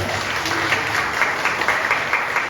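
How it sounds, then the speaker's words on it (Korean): Wedding guests in a wedding hall applaud to welcome a singer, a dense, steady wash of clapping from many hands that holds loud throughout and drops off at the very end. "우리 박수로 우리 축가자분을 모셔보도록 하겠습니다."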